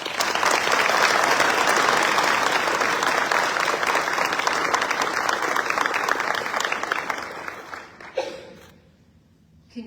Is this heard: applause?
yes